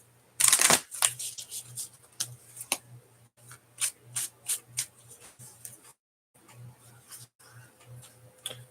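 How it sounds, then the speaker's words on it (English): Tarot cards shuffled by hand close up: a sharp riffle burst, then a series of soft flicking slaps and taps in short bursts with brief pauses, quiet and alone. "I'm gonna give this 3 shuffles."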